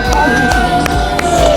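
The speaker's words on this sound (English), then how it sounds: "And they're cheering me" A crowd cheering at an AFL stadium in Australia's Red Centre, a loud continuous roar of voices with scattered whoops and claps, close and energetic.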